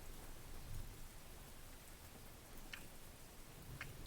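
Rain falls at night outdoors, a soft, steady hiss with faint scattered drops and low rumbling, and no voices.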